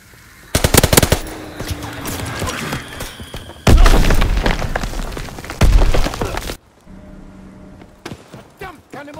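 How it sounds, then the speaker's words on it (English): Gunfire and bomb explosions from a Call of Duty WWII battle, with dense rapid machine-gun bursts and heavy booming blasts around the four- and six-second marks, loud and close, then a quieter stretch with scattered distant shots. "Enemy bomb incoming! Get to cover!"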